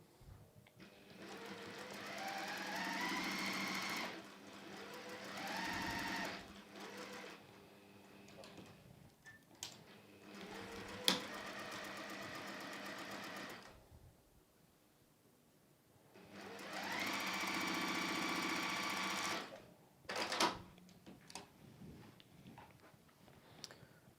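Sewing machine stitching a quilt seam for a Terrace Star quilt, three sustained runs of rapid mechanical stitching separated by quieter pauses with small clicks and handling noises, close and clear.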